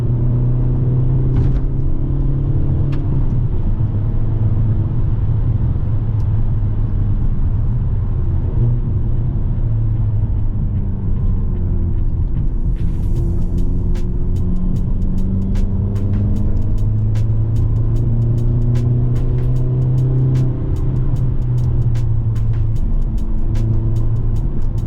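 A 2022 Hyundai Elantra N drives through Malibu Canyon on a cloudy day. Its engine rumbles steadily and loudly from inside the cabin, rising and falling with revs and shifts throughout, with faint ticks near the end.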